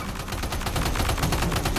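Rapid automatic gunfire from a weapon in Death Stranding 2, a dense unbroken stream of sharp shots at a fast even rate, loud and close, with no talking.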